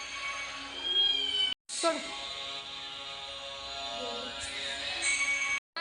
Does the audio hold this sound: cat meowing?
yes